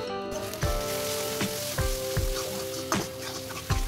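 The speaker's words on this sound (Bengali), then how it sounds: "স্বাদ অনুসারে লবণ দিয়ে আমি সমস্ত গুঁড়ো মশলাগুলো ভালো করে কষিয়ে নিচ্ছি।" Ground spices with salt sizzle steadily in hot oil in a pan, a close, continuous frying hiss broken by several sharp scrapes of a spoon stirring against the metal.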